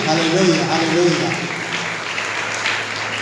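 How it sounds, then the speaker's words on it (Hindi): Church congregation clapping along during a Hindi worship service, a dense, steady wash of many hands, with a voice singing or calling out at the start. "ताली बजा के परमेश्वर का महिमा"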